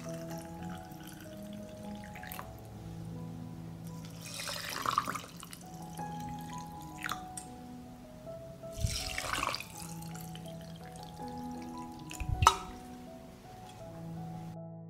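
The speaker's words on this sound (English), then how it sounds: "Fill the jars to the top with lukewarm water." Lukewarm water runs from a tap into glass jars in a steady, filling trickle with a faint ringing tone, punctuated by a few splashing surges and clinks as each jar fills to the top.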